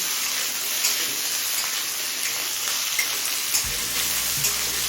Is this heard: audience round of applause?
no